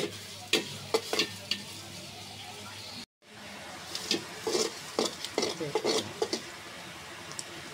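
Onions fry in a pan while a spatula stirs them, a soft steady sizzle broken by irregular scraping knocks, close and free of talk, with a brief cut to silence partway through.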